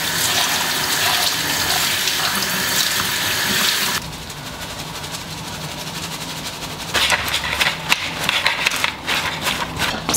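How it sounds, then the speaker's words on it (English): Arugula (rocket) leaves are washed under a running kitchen tap, a loud steady rush of water that dips and changes tone as the leaves block the stream, then splashes harder, close up. "Now I'm gonna wash half of this bag of rockets."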